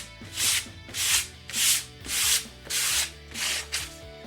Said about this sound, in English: the first layer has dried, so I am going to sand it down.